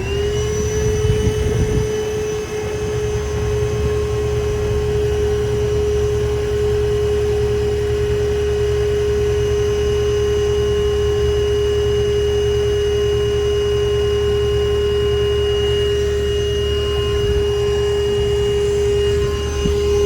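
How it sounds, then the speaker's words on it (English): A vacuum clears gunk out of a clogged drain, running as a loud, steady drone with a constant whine for the full twenty seconds and no talking. "I'm going to vacuum it one more time"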